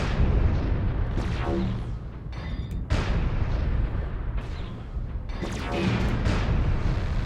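Long-range missiles fire in MechWarrior Online in several whooshing volleys, with rumbling launches and booms repeating every couple of seconds over a constant low mechanical drone.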